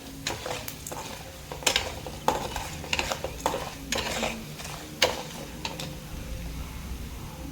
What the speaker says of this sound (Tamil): கடுகு போட்டு பொரிஞ்சதும் உளுத்தம்பருப்பு கடலைப்பருப்பு சேர்த்து பொன்னிறமாக நல்லா வறுத்து எடுத்துக்கணும்